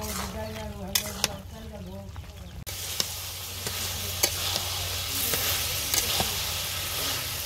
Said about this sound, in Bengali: মাংসটা ভালোভাবে কষিয়ে নেই